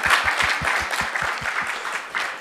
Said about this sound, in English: let's give another round of applause for all of our teams